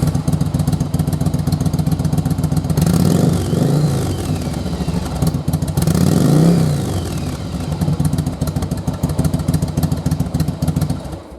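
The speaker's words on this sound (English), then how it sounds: "I'm going to fire the bike up and we're going to check and make sure that it'll throttle up good." Yamaha Virago motorcycle engine idling with a loud, close rumble and clatter, then revved twice in rising and falling sweeps before settling back to a steady idle.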